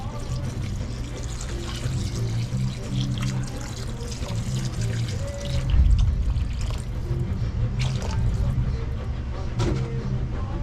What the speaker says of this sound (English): Now we're gonna put in the water.